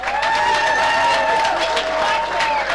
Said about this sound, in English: let's give a round of applause to the winner for the Chrysalis Award 2023 edition